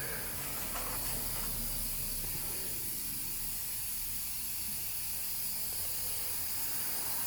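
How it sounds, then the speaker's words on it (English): An air compressor blows a constant loud, broadband hiss of rushing air, steady throughout and close, with a low rumble underneath and no speech. "I know it's not ideal to have obviously your compressor there and it's blowing on"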